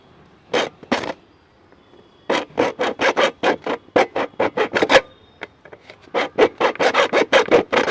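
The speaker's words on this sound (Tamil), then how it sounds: "நான் ஆக்ஸா பிளேடை வச்சுட்டு சமமாக வந்து வெட்டிக்கிறேன்." A hacksaw blade cuts through a plastic bottle in quick, rhythmic rasping strokes, close and crisp, with short pauses between bursts of sawing and no talk.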